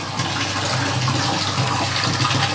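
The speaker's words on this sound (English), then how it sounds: "that's the water siphoning out of the drum filter" Water siphons out of a fry tank's drum filter in a steady, close gushing rush that holds constant throughout, with no voices.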